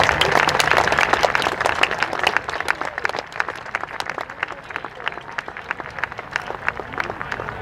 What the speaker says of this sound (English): Ladies and gentlemen, round of applause for all the reenactors who came out here this day.